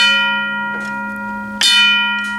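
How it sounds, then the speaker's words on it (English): An L&N Modern Industries mechanical bell strikes twice, each loud metallic clang ringing out with a long sustained tone that decays before the next strike. "yeah, so Marshall's bell's working."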